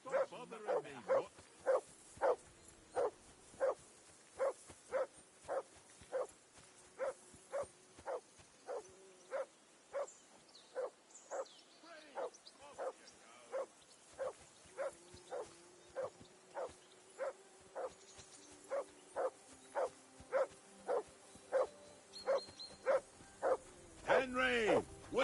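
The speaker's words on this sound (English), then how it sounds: "Whistle at that mutt of yours to stop barking!" A dog in the video game Kingdom Come: Deliverance 2 barks over and over in a steady, even rhythm, the loud woofs running for the whole stretch, with a few whimpers and quieter game sounds underneath.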